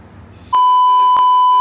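A steady censorship bleep tone comes in abruptly and holds loud for about a second, with a brief burst of noise just before it starts and two short clicks breaking it along the way.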